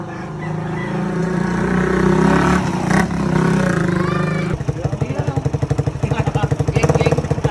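A stock Suzuki Raider 150 motorcycle, three years old, with its engine running loud and close, building into a steady rumble and then pulsing in fast rhythmic revs, with people talking nearby.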